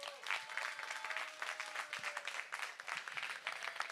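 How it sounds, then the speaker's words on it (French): A crowd at the opening ceremony of a charity relay event in Rixensart claps warmly, with continuous applause at a moderate distance and some faint voices mixed in. "On les applaudit."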